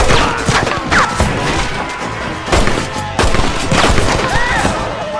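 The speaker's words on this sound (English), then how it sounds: "Stop shooting at me!" A Wild West shootout in Red Dead Redemption: loud, close volleys of rifle and pistol fire crack in rapid bursts, some overlapping like a fusillade, with brief pauses between clusters.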